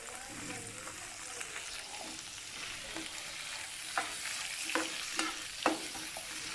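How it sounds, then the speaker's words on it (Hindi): Chicken Manchurian ingredients with garlic paste sizzle and fry in a hot pan on high flame while a utensil stirs them, with several sharp scraping clanks toward the end. "हाई फ्लेम पे इसे सोटे करती जाऊंगी"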